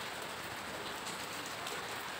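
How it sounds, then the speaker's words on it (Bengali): Heavy, steady downpour outside a hotel, a dense continuous hiss of rain falling on surfaces with no pauses, moderately close and even in level throughout. "তোমরা বৃষ্টির আওয়াজ শুনতে পাচ্ছ আশা করি"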